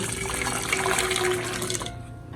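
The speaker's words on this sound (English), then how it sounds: "Just put some water." Water runs steadily from a tap into a cooking pot for an African dish, a close, full splashing flow that cuts off near the end.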